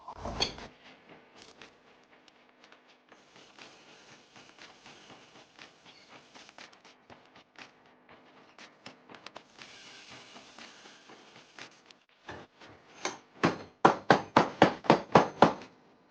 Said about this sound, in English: So here I drilled with the Hilti. That's more than enough. It's powerful enough to drill through angle iron.